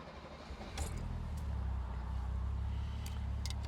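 Keys jangle briefly, then a 1970 Mercedes-Benz 280 SL roadster cold-starts and settles into a steady low idle rumble, heard from inside the car.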